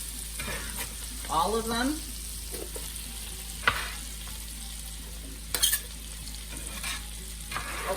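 Onions and potatoes sizzle and fry in a pot for cheesy corn chowder, a soft steady crackle under occasional stirring scrapes and clinks, with a voice speaking briefly.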